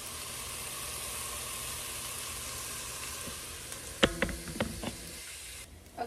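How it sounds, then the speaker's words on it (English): Potatoes sauté in a pan with a constant close sizzle and hiss, joined late by a few sharp clinks and knocks of cookware before the frying noise thins out. "I'm gonna let this sit here, and then I'm gonna let this saute"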